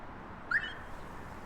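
A single short electronic chirp from a Pandora security alarm arming on a Mercedes E-Class sounds faintly over a low background hum, brief and quickly gone.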